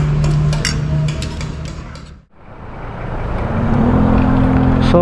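Heavy road traffic on a congested street in Baguio City, a loud continuous rumble of engines and vehicles that briefly dips to near quiet, then swells back with a low idling drone.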